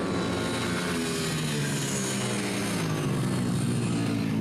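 Stock 160 class mini bikes race around the Rednal circuit, a continuous droning engine whine with a steady buzzing tone, sustained and fairly loud with no breaks.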